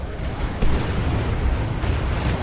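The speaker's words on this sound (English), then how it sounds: "Raptors just casually walking into a grenade there." A grenade bursts in the Warhammer strategy game Dawn of War 2 as Chaos Raptors walk into it, giving a dull, rumbling boom under a steady wash of battle noise that holds for the whole stretch.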